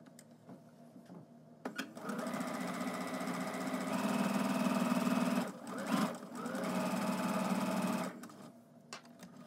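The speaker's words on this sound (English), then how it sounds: "We are gonna sew on this wide side." A sewing machine stitches fabric on its wide side in two long, steady bursts of close, even mechanical whirring, separated by a brief stop, with quiet handling noises before and after.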